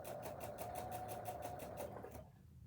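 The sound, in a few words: sewing machine stitching across a seam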